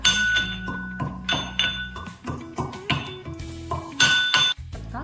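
Cardamom pounded in a metal mortar for Indian cooking, giving a run of ringing metallic clinks and thuds in an uneven rhythm, loud and close, about eight strikes over a few seconds.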